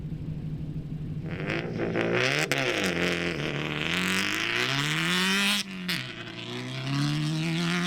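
A Subaru Forester rally car at a safari rally in Australia, its engine revving hard and loud up close, pitch climbing, dipping and climbing again as it accelerates past.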